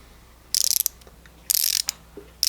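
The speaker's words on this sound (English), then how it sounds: "that's how it sounds like when it's on its tightening mode" A Tekton folding ratchet with socket attached clicks in tightening mode, fine rapid pawl clatter in three short bursts, close and crisp with quiet gaps between strokes.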